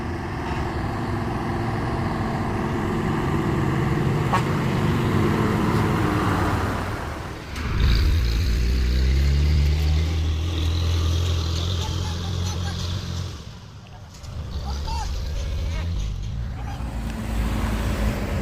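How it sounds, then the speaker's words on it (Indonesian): Heavy trucks labor up the steep Bukit Kodok hill climb, engines droning loud and close with a deep rumbling surge midway, then a dip and continued roadway noise, with voices talking over it. "Ramai sekali truk nanjak bosku."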